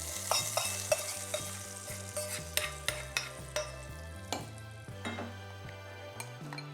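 Tempering spices for a coconut milk salad spluttering in hot oil, with repeated sharp pops and crackles over a steady sizzle, loud and close, with no talking.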